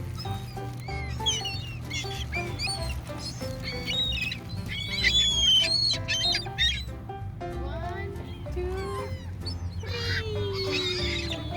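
Seagulls squawk and call in a park, a busy overlapping chorus of shrill cries close by, with people talking throughout.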